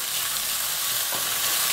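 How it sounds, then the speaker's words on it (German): Rice fries and is stirred in a pan for Turkish pilaf, a steady bright sizzle with a brief scrape of stirring partway through, close and continuous with no talking. "den Reis umrühren und etwas anbraten"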